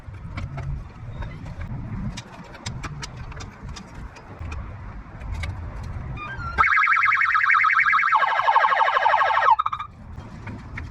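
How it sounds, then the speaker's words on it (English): A 1996 Toyota Corolla's car alarm suddenly blares after some low background noise and faint sounds, a loud, cycling electronic wail that shifts tone partway and then cuts off abruptly. "the alarm on this car is actually freaking wicked stupid"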